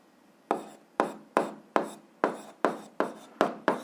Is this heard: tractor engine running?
no